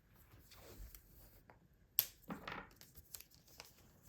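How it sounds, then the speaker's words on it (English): Washi tape is torn and pressed onto a journal page in a quiet room, with soft crinkling followed by a sharp rip and a brief tearing sweep, then faint taps and rustles. "Sometimes I will add a little bit of washi tape."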